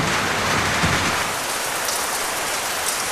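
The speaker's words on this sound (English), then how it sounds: "During the wet season, the area is deluged almost every day." Heavy wet-season rain pours down over the Amazon rainforest, a dense, steady, close hiss that never lets up, with no voices.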